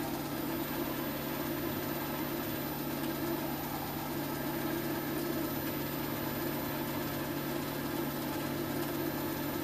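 A polishing machine with new polishing paste runs at a higher speed, giving a loud, steady motor hum with a constant drone that holds unchanged throughout, with no talking.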